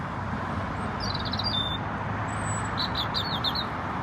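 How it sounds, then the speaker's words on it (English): Small birds chirp and tweet outdoors near an airport, several quick high bursts of calls over a steady low rumble of distant background noise. "Birds are chirping away."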